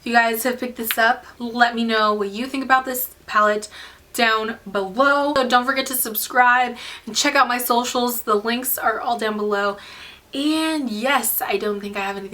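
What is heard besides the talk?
No everyday noise stands out behind the speech.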